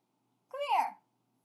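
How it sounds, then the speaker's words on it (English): A cat gives a single short, rising-then-falling meow, close and clear against a quiet background. "Kitty, Kitty, what is it"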